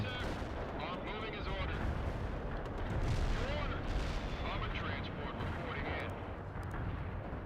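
A heavy artillery barrage in the strategy game World in Conflict: dense rumbling blasts and gunfire roll on continuously, with voices and radio chatter mixed in.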